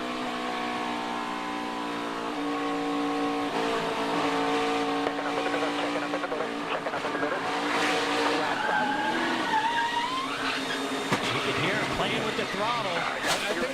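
NASCAR race cars at Michigan in 2018 tangle and spin, with engines roaring, tires squealing and skidding through a chain-reaction crash, under steady race commentary.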